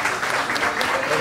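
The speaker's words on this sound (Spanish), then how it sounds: "Fuerte el aplauso" Dense, steady applause from a crowd at a regional carnival gala in Baní fills the moment, loud and continuous throughout.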